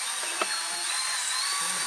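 A drill works through the holes of a mounting plate while a Hard Dog M2 Sport roll bar is fitted to a Mazda Miata. It gives a steady, thin, high-pitched whine for under two seconds.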